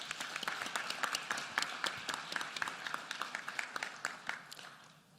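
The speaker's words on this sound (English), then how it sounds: "Please join me in giving them a round of applause" Audience applause for event sponsors at a public education address in Philadelphia, many hands clapping in a dense, steady burst that holds for several seconds before thinning slightly at the end.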